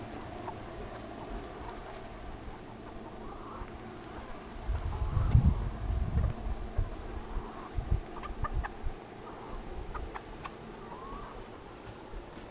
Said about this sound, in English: raise our own chickens